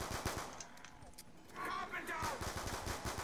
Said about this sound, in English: Dude, these freaking guns are amazing.